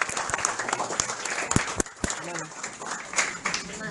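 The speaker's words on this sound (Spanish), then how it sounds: "otro fuerte aplauso para ti" Applause from a live audience at a multilevel marketing business event, a steady clapping wash with sharper individual claps up close, running under a speaking voice.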